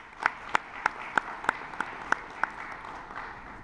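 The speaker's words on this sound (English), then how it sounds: "please give him a big round of applause for that" An audience at a university ceremony claps for a colleague, heard as sparse, evenly spaced sharp claps in a steady rhythm over a low room hum, fairly close and moderately loud.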